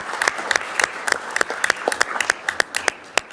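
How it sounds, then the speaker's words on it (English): Applause at a school district governing board meeting: a small group clapping at a brisk, uneven rhythm, individual claps distinct and fairly close, without talk. "If we can give Grant a round of applause, please."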